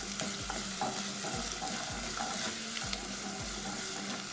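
An onion frying in butter in a pan, stirred now and then, gives a steady close sizzle with recurring soft scraping strokes at a loose, regular pace, with no voices over it.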